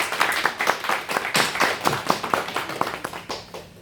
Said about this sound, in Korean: 우리 한번 오랜만에 왔는데 박수로 환영하겠습니다